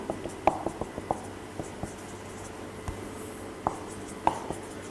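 Chalk scratches and taps on a board during a maths lecture, with short faint strokes and clicks scattered irregularly over a quiet room hum.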